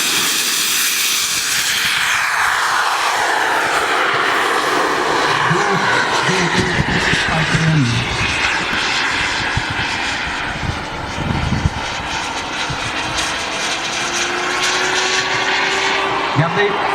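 Scale model jet aircraft flying at an RC airshow, a sustained loud whine and roar passing overhead with a rising and falling pitch, while a French-speaking announcer talks over it.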